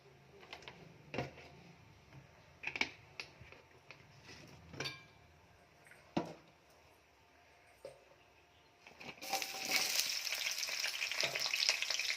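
Leafy greens sautéing in oil in a pan, with intermittent scraping and clinking stirs over a soft fry, then a loud hissing sizzle toward the end.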